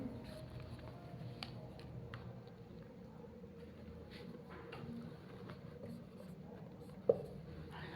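Chalk or marker writing on a board in a chemistry classroom lecture gives faint, steady scratchy strokes over a low room hum, with a single sharp tap near the end and no talking.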